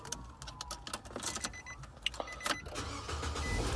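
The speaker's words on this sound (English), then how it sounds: "See that it cranks up no problems." A car engine cranks and catches near the end. The car has all-weather floor mats, cruise control and an automatic transmission. The start is preceded by close interior clicks and handling noises, then settles into a steady running rumble.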